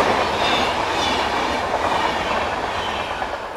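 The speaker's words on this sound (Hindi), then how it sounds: "ये है पुणे दुरंतो" Pune Duronto Express train rushing past a level crossing nearby, a loud steady roar of wheels and carriages with rhythmic clatter throughout.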